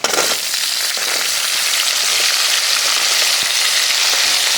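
Onion drops into hot oil for a Tamil pirandai chutney, a loud, bright hiss erupting at once and holding as a dense, crackling sizzle close to the pan, with no voices.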